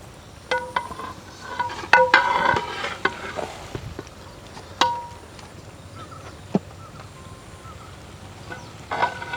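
Pieces of fried chicken are stirred one by one into a roast masala in a village kitchen, giving scattered clinks and scrapes with a soft frying hiss underneath, with no talking.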